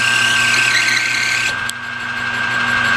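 A lathe cuts brass with a left-hand tool, giving a loud, steady whine and hum with a constant high tone and a brief dip midway.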